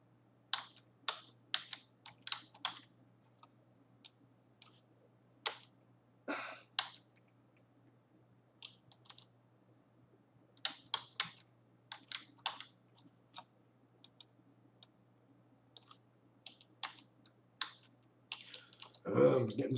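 Password typed on a computer keyboard during a WordPress install, irregular bursts of quiet close keystrokes with pauses between them, ending in a louder clatter.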